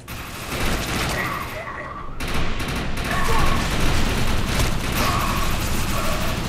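Burst fire gun shooting in Defiance, rapid clustered volleys of shots and mechanical clatter repeating steadily, with a short gap, loud and close amid game noise.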